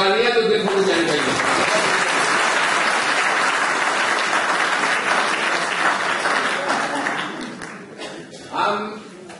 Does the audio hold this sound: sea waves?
no